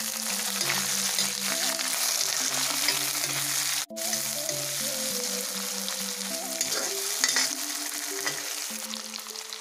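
Onion frying in a pan for a chicken dish, a loud, steady sizzle with occasional stirring clatter and a brief break partway through, no talking.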